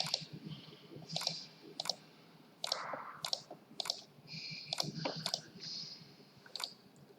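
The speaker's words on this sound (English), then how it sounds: "then I click it." Computer mouse clicks during slide editing in PowerPoint, a series of crisp, close, quiet clicks coming in irregular ones and pairs against a faint room background, with no voices.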